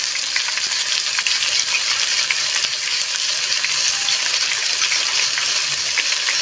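Chicken frying in a pan, a steady dense sizzle with occasional stirring scrapes, close and continuous with no talking.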